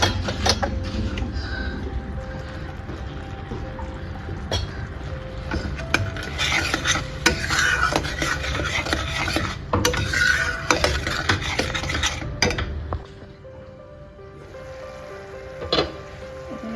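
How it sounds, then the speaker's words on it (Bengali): A spiced fish curry with turmeric is stirred and sautéed in a pan. A spoon scrapes and clinks against the metal in uneven strokes, with a sizzling wash behind it, and near the end the sound drops away to a quieter background. "ভালো করে কষিয়ে নেবো।"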